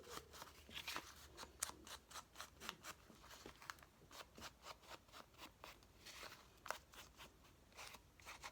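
Scissors cutting through fabric scraps, a close run of crisp, regular snips and crunches repeating steadily throughout, fairly quiet with no talking.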